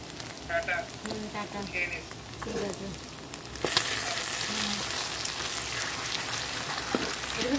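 Egg frying in a pan for an egg and potato bhujia: a soft sizzle with stirring and faint voices early on, then a louder, steady crackling fry from the midpoint onward.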